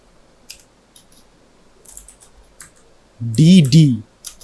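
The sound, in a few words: typing HTML code on a computer keyboard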